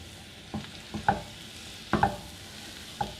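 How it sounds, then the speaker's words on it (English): Soft, steady sizzling of food in a hot pan, with a few light clinks and scrapes of stirring at irregular intervals. "You start hearing the sizzle,"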